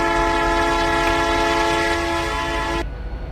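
A model Canadian Pacific freight locomotive horn blares continuously, loud and close, as a multi-tone chord over rumbling train noise, then cuts off abruptly near the end while the rumble carries on.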